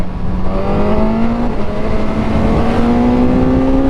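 A 2021 Suzuki GSX-S1000 motorcycle accelerates hard, its loud, close engine note climbing steadily in pitch with a brief dip for a gear change, over rushing wind noise.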